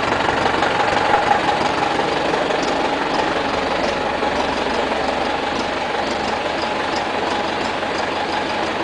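A tractor engine idles in a Kars village in summer, a steady low rumbling drone that holds at an even loudness throughout with no speech over it.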